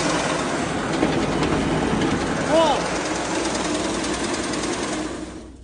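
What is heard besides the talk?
grain mill machine running, milling rice and corn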